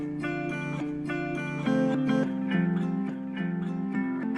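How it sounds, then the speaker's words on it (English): A steady melodic line with clear harmonic tones, plucked-sounding notes moving in a regular rhythm, likely guitar, playing alone at moderate volume. "The first one is like the main one with the guitar, and it sounds like this."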